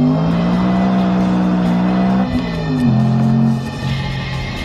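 A BMW M3's 4-liter V8, which redlines near 9,000 RPM, drones loudly and steadily, its pitch shifting in a few distinct steps as the revs change, with no talking.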